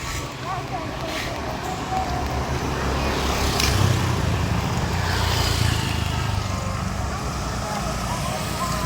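Steady roadway traffic with a car passing on a street in Jakarta, a continuous engine and tyre rumble that swells gently mid-clip, with voices talking faintly underneath.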